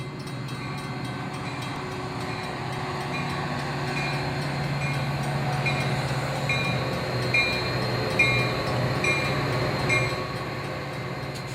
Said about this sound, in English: This metro train goes under the old Wabash Railroad Chicago to St. Louis main line as it approaches New Lenox.